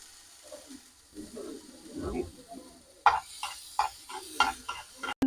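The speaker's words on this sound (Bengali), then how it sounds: "এই যে ঘন ঘন ছিটতেছে একটা টিট আওয়াজ হইতেছে তখন নামিয়ে নেবেন" Black cumin seeds fry in oil with onions and chilies, starting as a faint, quiet sizzle and then breaking into a series of sharp, spattering pops.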